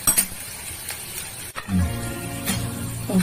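Peepal leaf fritters frying in hot oil, a steady close sizzle with a few clinks of a utensil and stirring sounds partway through.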